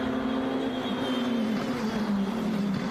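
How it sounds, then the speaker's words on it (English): Race car engines drone steadily at a street-circuit road race, a sustained loud tone from cars on track with no clear tire squeal standing out, no talk. "somebody squealing the tires. You can really hear it from up here even."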